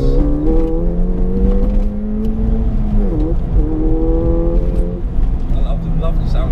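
A Ford Fiesta ST200 engine revs up and holds a steady drone with rising and falling pitch while accelerating, close by, with a voice talking over it.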